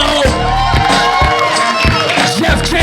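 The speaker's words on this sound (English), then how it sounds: "a round of applause for all of our panelists here today" Audience at a Megacon live podcast panel cheering and applauding in a crowded hall, loud and continuous, with whoops and shouts rising over the clapping.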